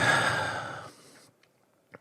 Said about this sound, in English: Nice deep breath.